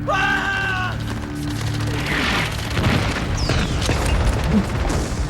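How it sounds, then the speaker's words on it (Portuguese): Artillery bombardment in a Second World War battle: dense, rumbling booms and crashes layered with a low sustained tone and a brief whistling streak, loud and continuous throughout without a break. "Agora vinha o bombardeio da artilharia"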